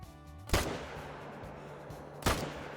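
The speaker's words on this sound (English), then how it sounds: "We took a follow-up shot." Two sharp rifle shots fired at a mountain lion in the hunting video game theHunter: Call of the Wild, spaced under two seconds apart, each a loud crack with a short echoing tail over quiet ambience.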